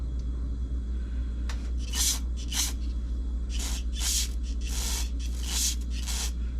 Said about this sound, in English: We're spraying stuff everywhere.